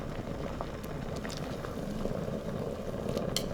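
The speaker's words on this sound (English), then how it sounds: "this is how you would drop the egg in as well" Hot and sour soup boils in an Instant Pot as an egg goes in, a low steady bubbling with a few faint clinks and small splashes, close and quiet, with no voices.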